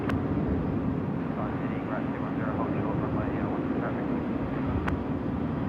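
FedEx jet aircraft moving on the ground at Sydney Airport at night, a steady distant engine roar under broadband rumble, with a person talking over it.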